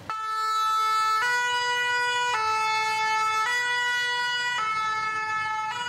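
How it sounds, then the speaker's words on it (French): A Paris fire brigade truck's siren blares close and loud in a steady two-tone pattern, switching pitch about every second over faint road noise, with no speech. "Il est environ 13 heures quand la sirène retentit."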